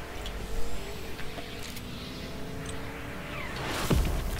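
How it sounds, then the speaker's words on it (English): Car driving in the video game Fortnite, its engine droning steadily at close range with rising revs and a brief whoosh near the end, heard without talk. "Car."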